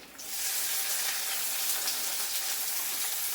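Chopped shallots, a medium tomato and green chili hit hot oil in a pan with a sudden loud sizzle that settles into a steady, hissing fry.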